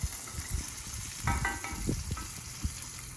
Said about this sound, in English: So you can see it's cooking in quite a bit of grease and butter there.